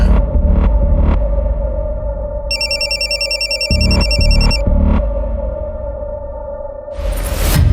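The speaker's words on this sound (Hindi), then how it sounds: "ये विकी का फोन क्यों नहीं लग रहा है?" A telephone rings repeatedly in loud electronic pulses, with a steady tonal ringtone layered over it and a whoosh near the end.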